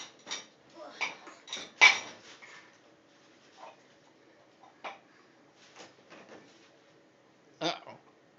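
A pet knocks around among dirty dishes in a dishwasher, giving a string of close clinks and rattles of dishes and cutlery, with a cluster near the start and a few sharper knocks later, while a person talks.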